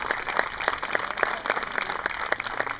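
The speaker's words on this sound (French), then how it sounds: "les applaudissements donc pour cette meilleure condition" Steady audience applause at a prize ceremony, moderately near and even, a continuous patter of many hands with no voices above it.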